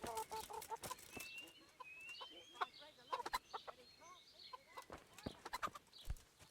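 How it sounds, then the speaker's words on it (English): Chickens cluck and squawk around a coop in the video game Kingdom Come Deliverance, with repeated clucks and short calls scattered over several seconds at a fairly faint level. "Oh, there's a chicken coop here."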